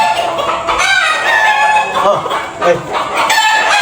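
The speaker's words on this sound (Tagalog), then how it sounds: "ilabas yung mga manok" Chickens cluck and a rooster crows repeatedly at close range, loud and continuous, with faint voices in the background.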